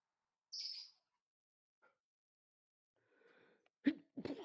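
A single short sneeze, fairly faint and isolated in quiet surroundings, followed by soft noises and a brief voice.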